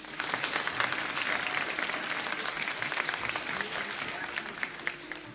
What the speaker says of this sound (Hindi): तीनों कंटेस्टेंट्स के लिए बहुत सारी तालियां।